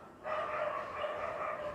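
Dogs bark and snarl continuously in a fight outdoors below, a sustained, fairly loud burst of overlapping barking with no talk over it.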